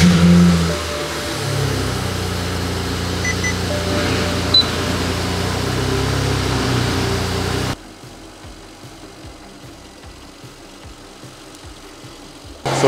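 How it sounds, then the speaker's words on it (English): A BMW engine catches and runs, humming and idling steadily at close range, then cuts to a much quieter, rougher low rumble. "We'll give the car a start now."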